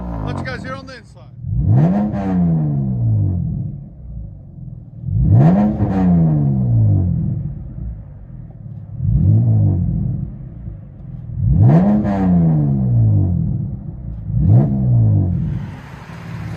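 A 2019 Dodge Charger 3.6L V6 with true dual straight-pipe exhaust is revved five times, each a loud rising bark that falls away into a rumbling idle.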